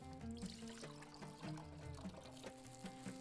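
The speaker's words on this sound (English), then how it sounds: "going to drain the water out of the rice as well." Water pours and trickles as it drains out of soaked rice, a faint, close, uneven gurgling stream with no talk.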